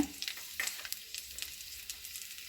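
Curry leaves and ginger fry in hot oil in a pan, giving a soft, steady crackle with scattered sharp pops. The sizzle is fairly quiet and close, with no voices.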